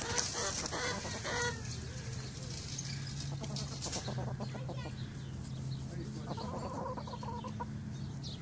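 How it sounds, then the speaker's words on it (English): Chickens cluck and murmur steadily while dust bathing in dirt, close and continuous, with faint rustling and occasional louder calls. "Look at that one chicken."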